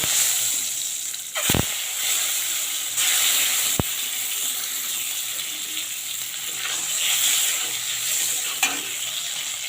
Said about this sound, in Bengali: এবারে ডিমগুলো আমি ভেজে নেব।